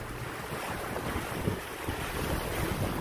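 Steady wash of sea waves around a sailboat with wind buffeting the microphone, a continuous broadband rush at moderate level with no voices.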